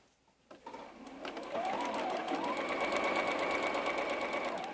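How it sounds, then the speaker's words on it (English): A sewing machine stitches a diamond point quilt pattern piece, starting after a brief quiet moment and then running in a steady, close, rapid whir. "we can now sew this last piece in here"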